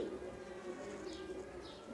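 Pigeons at the Khulna pigeon market give a steady, low, overlapping cooing hum that continues for the whole moment, with a light crowd murmur behind it and no clear speech.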